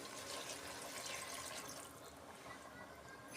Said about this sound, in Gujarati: આ એક વાટકો પાણી લીધું છે એ નાખી દઈશું